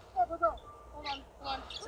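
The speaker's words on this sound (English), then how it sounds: "No, wait, that's a bird." Two short hooting bird calls come close together at the start, followed by fainter chirpy calls, with talk in the background.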